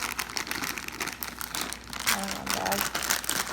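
A plastic bag of milk chocolate chips crinkles and rustles steadily up close as the chips are sprinkled over a no-bake cheesecake, continuous crackling with a few louder crunches.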